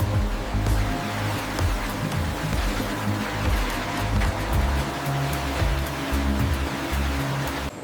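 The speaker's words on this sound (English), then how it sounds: "This is the scouring line, where the raw wool begins the vital process of washing to remove the natural grease." Wool scouring line washing raw sheep wool to remove grease, a constant rushing, splashing wash of water with low machine rumble, loud and unbroken throughout.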